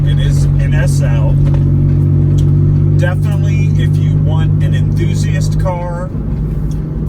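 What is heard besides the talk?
Mitsubishi 3000GT 5-speed exhaust while driving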